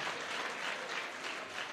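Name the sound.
applause in church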